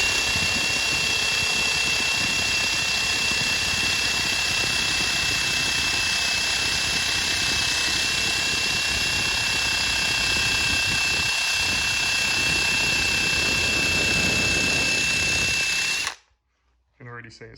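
A power polishing tool grinds steadily against a rusty FMF two-stroke exhaust pipe from a Yamaha YZ250, a loud continuous whine and rasp that holds for most of the clip before cutting off abruptly near the end.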